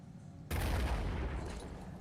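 A grenade explodes in the turn-based strategy game Phoenix Point, a sudden loud blast that cuts through quiet and leaves a broad rumbling roar fading slowly.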